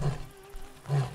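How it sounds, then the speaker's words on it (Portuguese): Two brief, throaty lion grunts from the video game Wild Savannah, one at the start and one near the end, loud and close, separated by a quiet ambient gap. "Dá até o rugido aqui pra mostrar quem é o leão dominador da Pedra do Rei"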